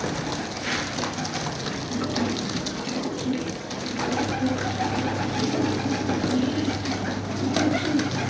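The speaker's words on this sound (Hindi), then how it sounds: "खालस डब वाले कबूतर" Pure dub breeder pigeons coo softly and repeatedly against a steady, busy background hum, with no talking.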